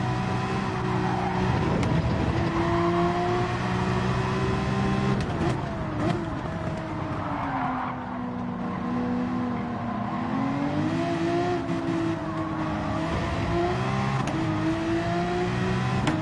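Race car engine drone from the Gran Turismo video game, a continuous loud engine note that rises and falls in pitch with gear changes and revving, with no pauses.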